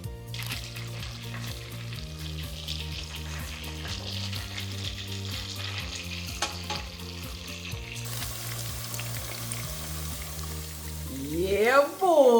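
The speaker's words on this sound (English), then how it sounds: "I'm gonna go ahead and add our chicken in there." Chicken browns in hot oil for a coconut curry chicken, a steady pan sizzle running under a loud music track, with a sharp sweeping sound near the end.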